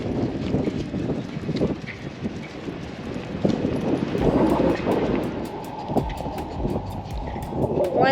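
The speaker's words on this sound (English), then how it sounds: "It's kind of windy already." Gusty wind buffets a microphone outdoors, a low roaring rush with clattering thumps and a faint high whine building near the end.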